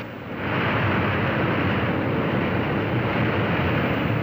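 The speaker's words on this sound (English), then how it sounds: "The captain will reverse the pitch of the propellers and push the air forward and just stop the plane" An airliner's reversed propellers roar as it brakes after landing, a loud, sustained broadband rush that swells in after a brief quieter start and holds steady.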